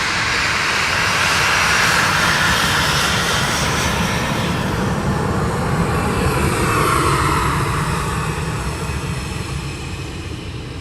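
Ryanair airliner passing by at East Midlands Airport, a loud, steady broadband engine roar sustained throughout with a slowly shifting tone as it goes past, no voices.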